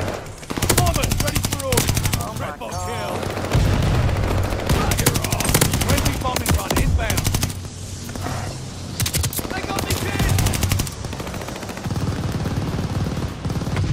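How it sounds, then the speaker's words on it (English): Dense Call of Duty Vanguard gunfire rattles in sustained automatic bursts with scattered single shots, loud and close, while a voice talks over the shooting throughout. "They're trying to shoot me through the wall"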